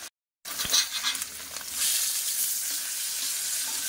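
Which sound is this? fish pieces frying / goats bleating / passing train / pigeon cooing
fish pieces frying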